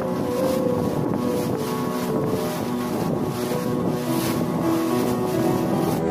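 Fishing boat heading across the sea off the Konkan coast toward the backwater near Tarkarli, Malvan, its engine droning steadily under constant buffeting wind noise.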